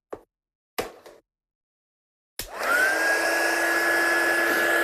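A heat gun switches on after a couple of brief knocks and roars steadily with a rising whine, heat-setting embossing powder on a handmade Christmas card.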